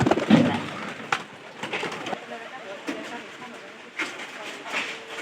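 Pigeons in a loft, some of them sick with a cold, give soft low cooing and rustling throughout, with brief clatters and occasional background noise.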